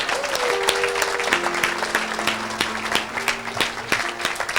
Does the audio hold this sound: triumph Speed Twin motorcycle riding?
no